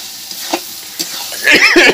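Duck skin being stirred in a frying pan while cooking khichuri: a few soft scraping stirs, then a louder burst of bright crackling sizzle toward the end, close by and with no talk.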